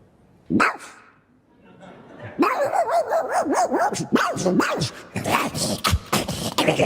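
A voice actor imitates a dog with a string of barks, yips and whimpers, loud and close, rising and falling in quick bursts.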